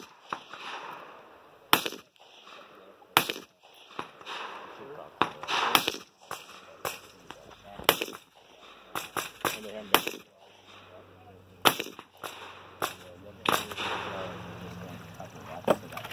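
Sharp gunshots ring out on a two-gun shooting competition stage, a rapid irregular string of loud close cracks spread through the clip, with faint talk and a low hum underneath.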